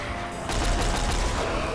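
Rapid turret gunfire in Plutonia 2, a Doom mod with Brutality, breaking out after a brief lull into a dense, continuous rattle of loud automatic shots that keeps going to the end.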